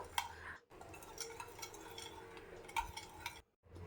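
Spiced tomato filling for paratha is kneaded by hand in a bowl, giving soft squelches and light clicks of a vessel at close range, with brief pauses.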